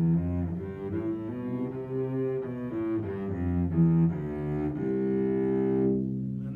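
Cello sounding a sequence of low, sustained bowed notes in its bottom register, warm and resonant, played alone at moderate volume for about six seconds.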